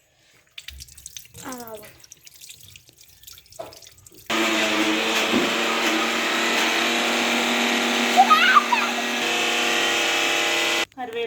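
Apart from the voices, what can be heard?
water running while washing hands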